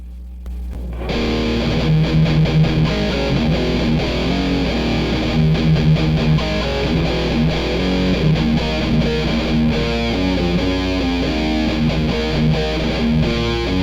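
An electric guitar plays through an Orange Dark Terror tube amp with the gain cranked, producing a thick, distorted riff that starts after a brief silence and runs steadily and loud throughout.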